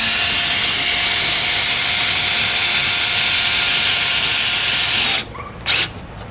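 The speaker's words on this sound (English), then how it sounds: "you can just use any powered drill" A loud, steady whine of a power drill turning an RV stabilizer jack close by for several seconds, then stopping abruptly, followed by a short final burst.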